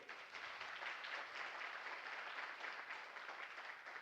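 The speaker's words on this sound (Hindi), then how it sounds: "इनके लिए एक बार जोरदार ताली होनी चाहिए।" Applause from an audience at a network marketing training session, a soft, steady patter of many hands clapping that holds evenly for a few seconds, somewhat distant and without voices on top.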